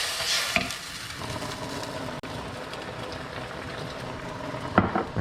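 Garlic sautéing very lightly in a pan for pasta alle vongole, a steady soft sizzle with faint stirring scrapes and one brief clatter near the end.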